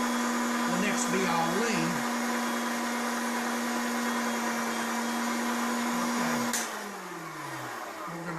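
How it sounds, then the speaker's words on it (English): Steady electric whine of a meat grinder working homemade country sausage, a constant motor hum that winds down near the end, with a person talking over it. "Shut off our grinder"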